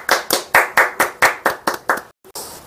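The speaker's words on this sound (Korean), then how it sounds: "박수." Sharp hand claps come in a quick, even burst of about ten close, loud strikes, followed by a brief pause and a softer clap, from a small group at a Yonex badminton shop event.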